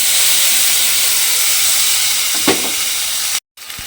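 Onion, ginger and garlic paste frying in hot oil, a steady loud close sizzle and hiss that runs unbroken, briefly cutting out near the end.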